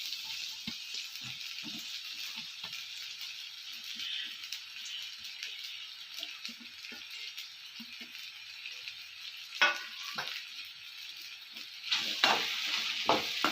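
Shredded parotta stir-fries in a pan for veg kothu parotta: a steady close hiss of sizzling, broken by clattering spatula knocks and rattles toward the end.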